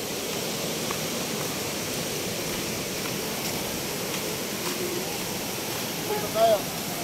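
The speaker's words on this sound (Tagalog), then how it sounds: "Wow, ang ganda ng falls, oh." A waterfall at Agpay Eco Park gives a constant loud broadband rush of falling water throughout, with faint distant voices.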